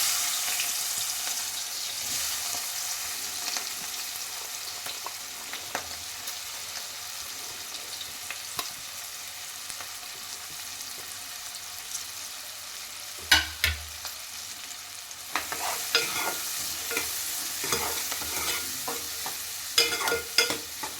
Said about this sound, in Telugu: ఇప్పుడు మనం ఉల్లిపాయలు పచ్చిమిర్చి వేయించేసుకోవాలి